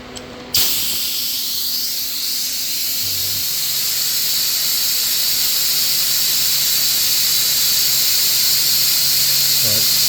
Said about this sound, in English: I'm going to come back here and I'm going to let the air off.